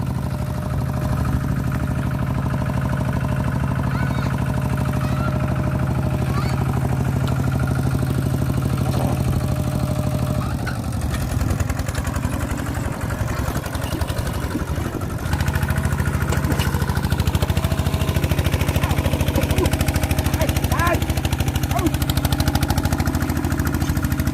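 A tractor engine runs steadily for the whole stretch, a loud continuous low chugging drone with some clatter and a slight rise in intensity partway through, no talking.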